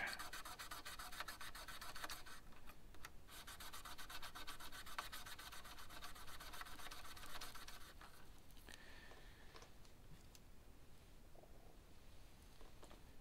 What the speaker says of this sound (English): I rip up another piece of sandpaper.